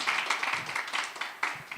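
A gathering of teachers at a church retreat claps in a light, uneven round of applause, individual hand claps audible in quick irregular bursts at moderate volume.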